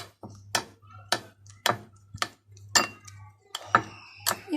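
Spoon repeatedly clinking against a bowl while spices and dried coriander are stirred into stuffing for stuffed eggplant, sharp evenly spaced taps close by, with no talk.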